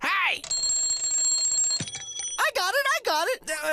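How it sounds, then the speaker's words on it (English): A loud electronic alarm clock rings with a steady high-pitched tone, followed by rapid warbling beeps in short bursts, up close. "It's an alarm clock."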